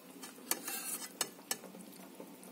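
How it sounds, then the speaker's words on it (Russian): A large spoon scoops fried potatoes with mushrooms into a small saucepan, giving a few sharp metallic clinks and scrapes spaced unevenly over soft, close kitchen shuffling, with no speech. "Я взяла большую ложку картошки. Загружаем ее в кастрюльку."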